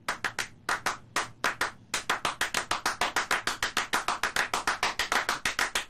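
Two people perform a clapping piece with bare hands, sharp close claps in a steady fast repeating pattern, thin at first and then denser, with no other sound.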